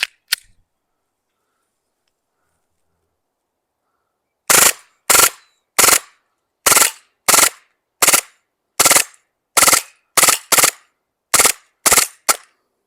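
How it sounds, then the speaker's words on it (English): A Glock 18c airsoft pistol fires on full auto in a dozen short, sharp bursts of rapid clattering shots. Each burst is loud and close, separated by brief pauses, after a quiet start. "now I'm going to reload it with the .12 BBs again, and we're going to shoot this thing on full auto"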